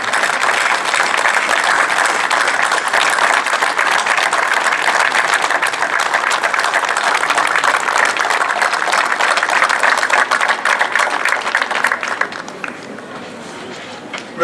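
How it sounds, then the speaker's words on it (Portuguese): Audience applause for the volunteer firefighters of Amarante at their centenary celebration: a large crowd claps loudly and continuously for about twelve seconds, then thins and fades near the end. "eu pedia uma salva de palmas para todos os bombeiros pelo trabalho que tiveram perante a pandemia"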